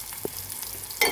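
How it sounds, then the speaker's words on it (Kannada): Tomato and garlic being stirred in a pan over a low gas flame, a soft sizzle with a few scraping strokes and a brighter burst of frying near the end, close and brief. "ಮಿಕ್ಸ್ ಮಾಡಬೇಕು"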